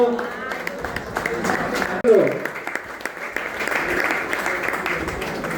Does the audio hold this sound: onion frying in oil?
no